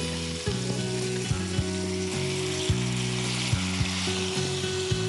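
Water poured into frying masala in a kitchen pan sets off a loud, steady sizzle, with a low humming tone and a few soft knocks underneath.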